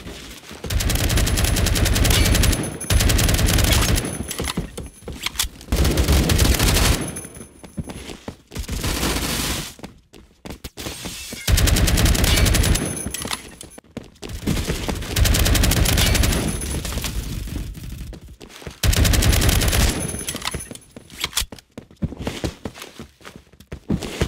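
SCAR-L rifle fire rings out in Roblox Phantom Forces, loud rapid automatic bursts repeating several times with short pauses between them, alongside footsteps and no talking.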